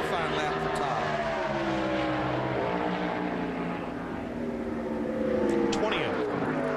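A NASCAR stock car engine roaring through a qualifying lap at Darlington in 2003, a loud sustained drone with shifting pitch as the throttle picks up, a commentator's voice talking over it.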